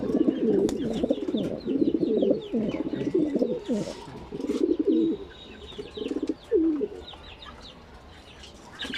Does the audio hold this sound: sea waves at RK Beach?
no